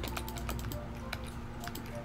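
Scattered clicks of typing on a computer keyboard come through quietly over a steady low electrical hum, with irregular bursts of keystrokes.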